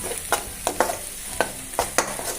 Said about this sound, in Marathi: लाल तिखट पूर्ण त्याच्यामध्ये टाकून द्यायचं, मिक्स सगळं करून एकजीव घ्यायचं